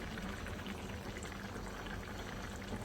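Oil, about half a cup, pours into a simmering chicken biryani salan, giving a soft continuous liquid gurgle and bubbling at low volume without any voices.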